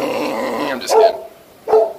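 Cattle dog giving two sharp, close barks a little under a second apart, after a brief low growl at the start.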